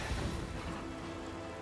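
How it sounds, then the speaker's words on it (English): A rain spell cast in Divinity: Original Sin, a steady wash of rainfall noise with a dense hiss and patter that fades slightly toward the end, with no voices. "you can basically put out the fire by using a rain spell like this"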